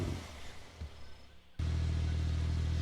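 A car engine revs to heat its tires: quiet clatter and rumbling at first, then a sudden, steady, loud droning hum that holds to the end.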